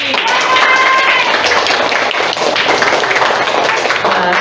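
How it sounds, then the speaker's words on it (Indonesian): Audience applause for ChatGPT during an on-the-job coding training session, steady dense clapping filling the whole stretch at close range. "Beri tepuk tangan untuk Chat GPT."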